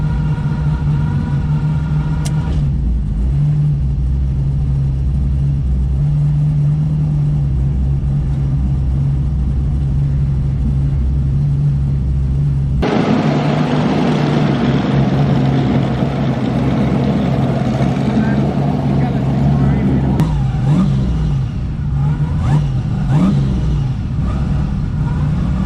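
A drag race car engine idles with a low, steady rumble, then revs up hard and stays loud as the car holds on the brake for a burnout, the pitch wavering near the end.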